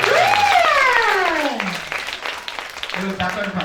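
A church congregation at the first service of the new year applauds and cheers, the clapping loud and steady beneath a raised voice calling out over the crowd.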